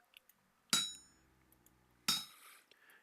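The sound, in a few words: hammer pounding hot metal on an anvil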